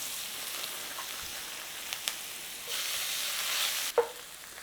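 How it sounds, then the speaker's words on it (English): Ginger fries in a pan for a lamb nihari stew, a steady hissing sizzle that swells louder near the end, with a couple of small clicks and a light knock. "Now what I do for this, I do take some ginger and we fry that."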